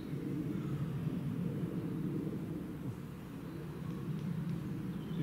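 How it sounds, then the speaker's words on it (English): An airplane flying over a wood in the evening, heard as a steady, low, distant rumble that holds for the whole stretch with no other clear sounds. "Shame about the plane flying by."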